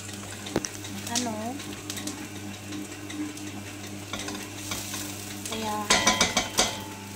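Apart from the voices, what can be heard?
garlic sautéing and sizzling in a pan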